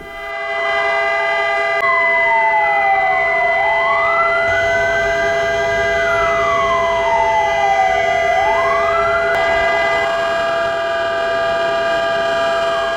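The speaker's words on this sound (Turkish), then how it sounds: "Cumhuriyet Meydanı'nda sirenler çaldı ve Erzincan halkı Mustafa Kemal Atatürk için saygı duruşunda bulundu." Air-raid style sirens wail across Republic Square in Erzincan, Turkey, during the memorial silence for Atatürk, rising and falling in long loud sweeps that overlap and continue steadily for the whole stretch, with no talking.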